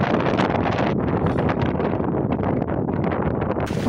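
Strong wind gusts roar steadily through a monsoon forest in Jhargram, loud and close, with buffeting on the microphone and rustling foliage throughout.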